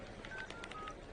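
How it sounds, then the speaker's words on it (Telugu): A telephone number is dialed with a few short, faint keypad tones in quick succession over a dull background hiss. "కావాలంటే ఫోన్ చేసి ఇస్తాను"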